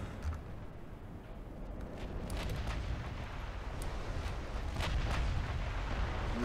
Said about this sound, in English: Another big salvo, and that was an ammo detonation.